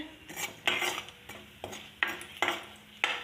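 Spoon scraping and stirring panch phoron spices in a cooking pan, a series of distinct scrapes repeating about every half second with a faint sizzle beneath, close and clear.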